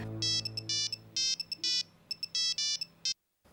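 A telephone ringtone repeats in a run of bright electronic trilled bursts, fairly loud and close, with a low hum beneath before it cuts off abruptly.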